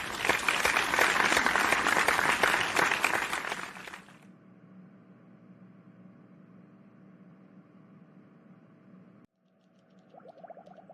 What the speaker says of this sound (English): Everyone, clap for Veer.